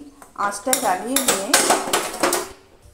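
Clanking metal as a tawa pan is set on a stove, a few close rattling knocks and scrapes of cookware ringing briefly before fading, no talking.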